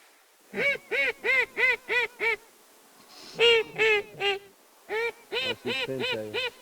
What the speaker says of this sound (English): Three mallards to the left coming down the field. Dropping hard from the field.